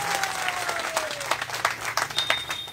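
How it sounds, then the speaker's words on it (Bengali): An audience claps loudly and continuously at a cricket league jersey and trophy launch event, a dense, close burst of applause with a faint crowd murmur underneath. "তার জন্য আমরা জোরে একটা করতালি আশা করছি"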